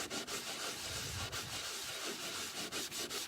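A kitchen cabinet is scrubbed with baking soda in continuous, close, gritty rubbing strokes that hold a fairly even loudness with brief rhythmic dips.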